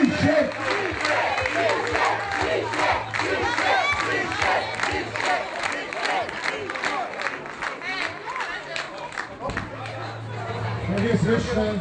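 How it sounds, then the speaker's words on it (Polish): An outdoor town-square crowd applauds and cheers to celebrate a women's basketball team winning the Polish championship, with loud sustained clapping, shouts and chatter, and a low musical hum beneath. "Wielkie brawa!"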